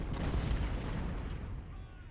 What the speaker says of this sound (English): And it's an artillery duel.